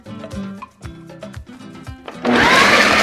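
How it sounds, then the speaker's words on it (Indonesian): A blender starts up and roars loudly and steadily after a stretch of rhythmic clattering and knocking sounds, blending ingredients including fried shallots and fried garlic. "blender dulu"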